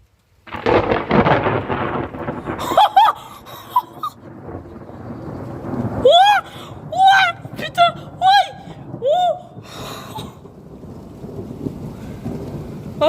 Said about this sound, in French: Oh non, là c'est le meilleur orage de ma vie là.